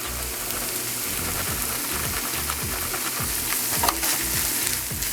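Steady close sizzle of a hot pan as shredded cheddar and Monterey Jack cheese go in for a Philly filling, with soft scraping stirs and crackles throughout and no talking.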